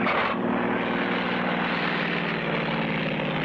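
Small propeller plane from the Clutch Cargo cartoon flying low through high mountains, a steady loud engine drone that holds for the whole stretch with no talk over it.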